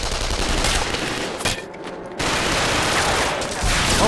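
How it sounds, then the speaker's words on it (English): Sustained machine gun fire in the video game Killzone 3 rattles loudly in dense bursts, dropping out briefly in the middle before resuming. "And those machine guns are tearing us apart!"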